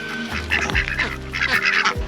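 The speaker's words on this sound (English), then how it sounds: "Don't come here if you're scared of ducks." A crowd of ducks honks and quacks while being fed, with repeated loud nasal calls overlapping close by in rapid bursts.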